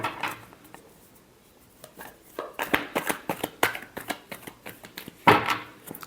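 Tarot cards shuffled by hand, starting with quiet handling and then a rapid run of close, crisp riffling taps that ends in one louder slap, with no talking.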